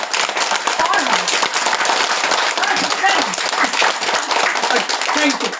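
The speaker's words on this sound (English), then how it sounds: "let's do some quick clapping here" A roomful of people clap their hands hard and fast in a dense, continuous, loud patter, while a voice speaks faintly underneath.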